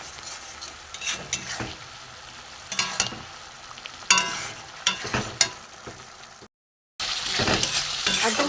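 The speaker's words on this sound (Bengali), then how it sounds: "অল্প একটু হলুদ দিয়ে আমি একদম এটাকে নেড়ে নেড়ে একদম শুকনো করে নেব" Pea pod paste with salt and turmeric being stirred in a frying pan, steady sizzling with repeated scraping strokes of a spatula against the pan, cut by a brief silent gap near the end before the sizzle resumes.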